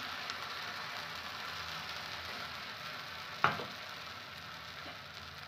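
Rava uttapam batter poured onto an oiled iron tawa, a steady soft sizzle throughout with one brief sharp pop midway, faint and close.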